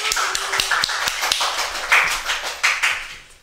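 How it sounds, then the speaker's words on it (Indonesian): Audience clapping at a school organisation talk event, a quick burst of close, sharp handclaps in an uneven patter that thins out and fades over a few seconds. "tepuk tangan dulu dong"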